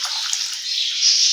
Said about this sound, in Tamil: இப்போ ஒரு சின்ன டம்ளருக்கு 1/2 டம்ளர் அளவுக்கு தண்ணி சேர்த்துக்கறலாம்.